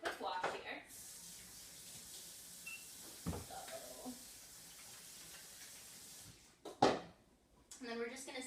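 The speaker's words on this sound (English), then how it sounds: "I'm going to give my hands a quick wash here." Running tap water while hands are washed in a kitchen during cooking, heard as a faint, steady hiss with brief louder splashes and clatters near the start and end.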